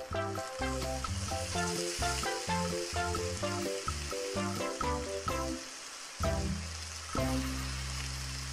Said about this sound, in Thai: เราก็จะผัดต่อจนกว่าถั่วฝักยาวของเราเนี่ยจะเริ่มสุกขึ้นนะคะ